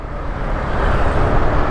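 Road traffic near Festival Mall in Alabang, a steady loud rumble of passing cars and engines with a low, dense drone and slight swells, close by and uninterrupted by talk.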